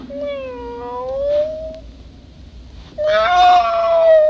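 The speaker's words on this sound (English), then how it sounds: "a cat." A cat gives a long, drawn-out meow that rises and falls, then after a short pause a louder, harsher yowl, close and clear with nothing else alongside.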